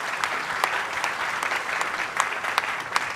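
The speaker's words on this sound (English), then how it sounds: "round of applause" An awards ceremony audience applauding to welcome the laureates, dense sustained clapping from a large crowd with a few sharper claps standing out nearby.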